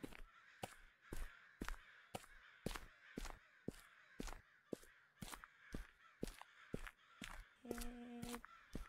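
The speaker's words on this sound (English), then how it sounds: "With all these birds." Crows caw repeatedly in a video game, sharp harsh calls at a fairly regular rhythm over a quiet background, with a brief electronic tone near the end.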